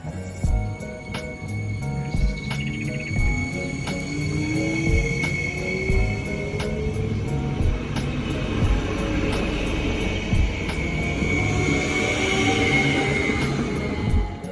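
A hydrogen fuel cell train rumbles steadily along the tracks, with continuous low mechanical noise, clattering, and a sustained high whine throughout.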